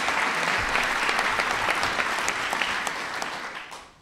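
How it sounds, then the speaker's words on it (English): An audience at the White House applauds steadily, a dense wash of clapping from many hands heard at moderate level before tapering off at the end. "Please give him a big round of applause."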